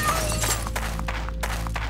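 A clay urn breaks in the dungeon game Fate, a short crunchy shatter followed by a few scattered clattering hits over a steady background hum.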